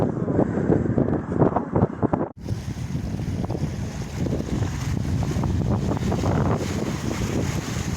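A breeze on the Greek coast buffets the microphone with continuous roaring gusts, with a brief drop partway through before the steady wind resumes.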